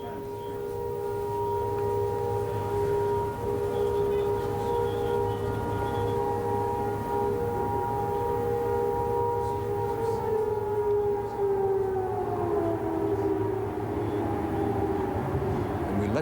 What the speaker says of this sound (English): There were some sirens sounded.